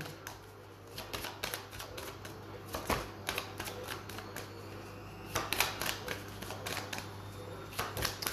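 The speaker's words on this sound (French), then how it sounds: "je vais prendre 3 cartes, s'il vous plaît, pour savoir les messages" Tarot cards drawn one by one from a deck make a run of crisp, close flicks and soft slides, with sharper snaps scattered through a quiet room.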